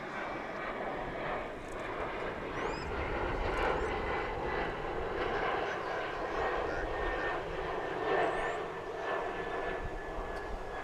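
Alaska Airlines airliner at DFW airport, a broad steady engine roar carrying on at moderate distance, with faint talk in the background.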